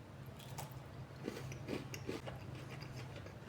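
A refrigerated MrBeast milk chocolate bar is bitten and chewed close to the mic, a few quiet crisp crunches over low background hum.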